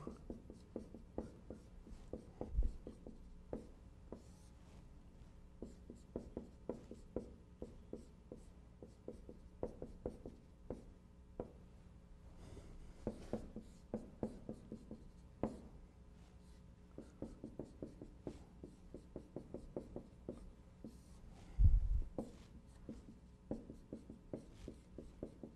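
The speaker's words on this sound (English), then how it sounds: "Let me write it down." A lecturer writes out a formula on a board during an optimization lecture: a steady run of short, close scratching and tapping strokes with occasional louder knocks, and no talking.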